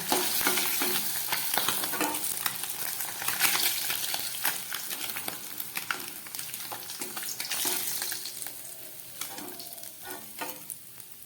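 Fish frying in oil gives a steady, dense sizzle with scattered clicks and scrapes of stirring and lifting pieces, close and continuous with no talk.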